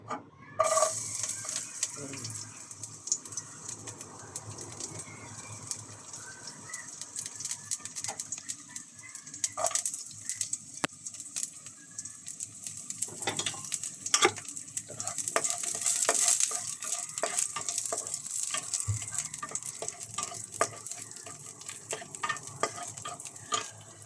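Chopped garlic sautés in an oil-filled pan while sinigang with beef ox leg is being prepared, a steady close sizzle and crackle with occasional stirring scrapes and clatters throughout, no voices.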